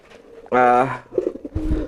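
A male pigeon focused on a hen gives one sustained, resonant coo, followed by softer low murmuring calls and a rustling thump.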